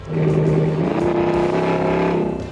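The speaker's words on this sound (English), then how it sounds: "if you want to hear and feel the difference a Borla exhaust makes on your car" A car fitted with a Borla aftermarket exhaust revs hard, giving a loud, close, sustained engine roar that rises in pitch and holds for a couple of seconds before easing off.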